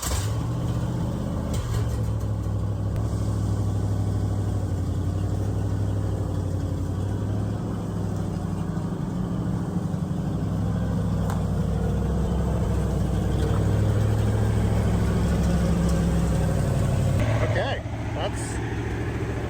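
A 1966 Chevy Nova engine runs with a steady low rumble as the car is put in gear and pulls out, with a slight rise near the end; someone talks over it throughout.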